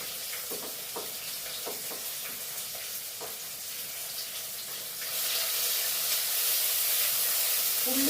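Ground spice paste goes into a pan with softened onion and tomato for an anchovy curry, giving a close, hissing sizzle with light stirring clicks that swells louder after the first five seconds, with no talking.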